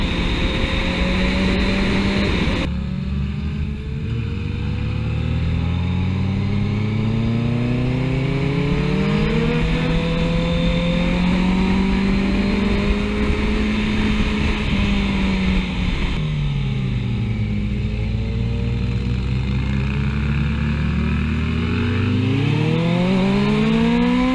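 Cars and motorbikes rush past on a road during a Swiss, Austrian and Italian road trip, each engine note swelling and sweeping in pitch as vehicles approach and go by, loud and continuous with no talk.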